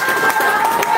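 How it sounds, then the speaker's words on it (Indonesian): An audience at a gathering applauds and cheers for Muhammadiyah, a loud, continuous wash of crowd noise with clapping and voices mixed together. "Kita beri aplaus kepada Muhammadiyah"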